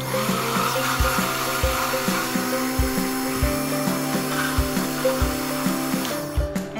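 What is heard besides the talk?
frappe machine blending eggs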